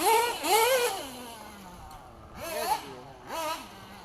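A tuned car engine barks in short rising-and-falling revs, three distinct bursts separated by quieter idling gaps, heard at moderate distance.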